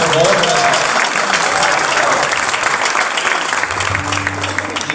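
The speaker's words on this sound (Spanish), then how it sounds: "¡Aplausos, por favor!" Steady audience applause at a choir reunion evening, dense clapping throughout with a brief voice at the start and a low hum near the end.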